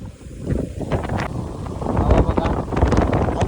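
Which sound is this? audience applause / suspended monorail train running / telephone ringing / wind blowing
wind blowing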